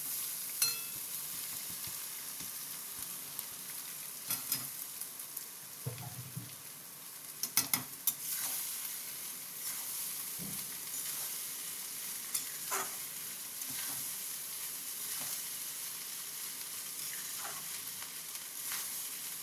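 Cooked rice with egg sizzles and fries in a pan while it is stirred for egg fried rice, a steady close hiss broken by scraping and clinking strokes of the spoon, no talk.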